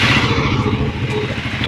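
A Triumph Scrambler 400X motorcycle with a dual-barrel exhaust idles close by, a loud, bassy, steady engine throb with a slightly doubled, pulsing rhythm.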